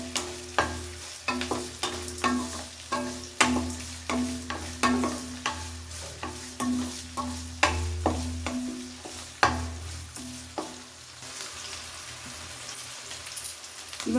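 Onions frying with salt in a pan for avarekalu upma make a low crackling sizzle, punctuated by rhythmic stirring scrapes and knocks of a spoon, with a faint hum underneath.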